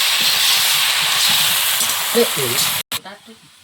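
Water poured into a hot frying pan of cooking greens sets off a loud, broad hiss that fills most of the moment. Voices talk faintly under it, and it cuts off abruptly near the end.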